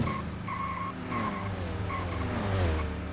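Cars skid and tires squeal through the street driving of the True Crime: Streets of LA video game, with sustained screeching over a continuous engine rumble and pitch shifts as the vehicles slide, and no voices.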